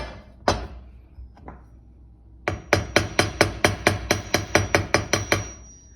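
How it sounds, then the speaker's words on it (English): Hammer strikes on jewelry wire, a couple of isolated taps then a steady run of about a dozen evenly spaced, sharp ringing blows, close by. "all those swirls need to be hammered slowly"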